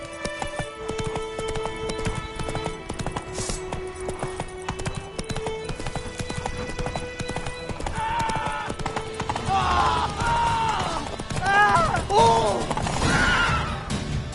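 Roach the horse gallops in The Witcher 3: Wild Hunt, hooves pounding in fast rhythm under game music, with a voice speaking and a whinny near the end.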